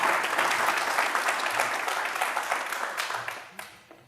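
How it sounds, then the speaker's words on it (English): A symposium audience gives a big round of applause, dense clapping from many hands that holds strong and then gradually thins and fades out toward the end. "give her a big, huge round of applause"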